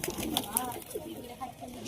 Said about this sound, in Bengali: এই যে পায়রাগুলো দেখছো